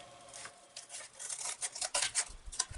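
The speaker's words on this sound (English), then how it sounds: "we can take something like our scissors, and we can go along some of the other trace marks we've made" Scissors cutting along traced lines in a sheet of cardboard, close and fairly quiet, with a run of rough, scraping snips that speed up toward the end.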